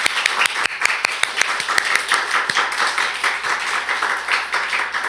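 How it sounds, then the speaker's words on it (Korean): A church congregation claps in thanks during a year-end worship service, with sharp, loud individual claps standing out early over a sustained, reverberant roar of many hands that holds steady to the end. "우리 진실한 마음을 담아서 하나님께 영광과 감사의 박수를 올려드리겠습니다."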